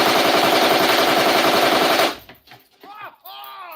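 Rapid automatic AK rifle fire, a loud continuous burst of shots at close range during a boar hunt outing, cutting off abruptly into outdoor quiet and some brief talk.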